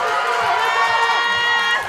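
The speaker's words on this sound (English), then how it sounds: "Give her a round of applause." A crowd at a powerlifting meet cheers and shouts continuously, a loud, dense roar of voices filling the room.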